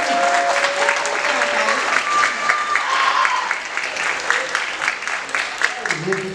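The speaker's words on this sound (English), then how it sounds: "Let's give a round of applause to the freshmen" Applause from an audience at a high school academic awards ceremony honoring freshmen, a loud, dense burst of clapping that carries on steadily, with voices from the crowd mixed in.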